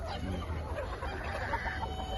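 Country hens on an organic farm cluck steadily and fairly close, a busy flock chorus with no talk over it.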